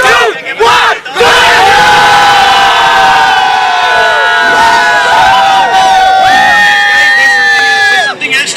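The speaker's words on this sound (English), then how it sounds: "now the cheer should be even louder" A crowd at the NACL A Division finals yells and cheers in a loud, sustained roar of many voices after a brief pause, holding high-pitched shouts for several seconds before tapering off.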